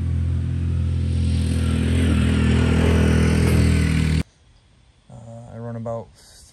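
A 4x4 golf cart powered by a 700cc Yamaha Grizzly engine drives hard over a bumpy, rutted field, roaring loudly and steadily for about four seconds before cutting off abruptly; quieter speech follows.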